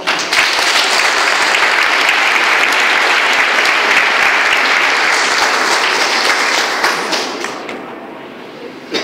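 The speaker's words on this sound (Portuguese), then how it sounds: "Mais um aplauso" Wedding guests applaud the newlywed couple with a loud, dense burst of clapping that holds for about seven seconds, then tapers off into quieter scattered claps near the end.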